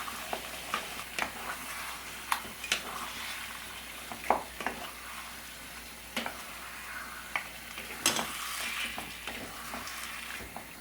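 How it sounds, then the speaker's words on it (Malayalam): A Malabar-style roasted-coconut chicken curry is stirred in a pan with water and salt. Irregular, quiet scraping strokes and soft sizzling sound close by with no talk. "എല്ലാം കൂടെ നമുക്ക് നന്നായിട്ടൊന്ന് മിക്സ് ചെയ്ത് കൊടുക്കാം"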